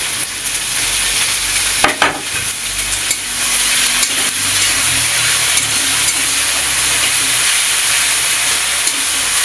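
Tomato paste sizzles loudly in a pan while being fried and stirred for a spicy chela fish curry, a close, continuous hiss with a brief scraping clatter from the spoon.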